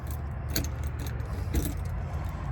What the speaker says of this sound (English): I gotta switch keys around here.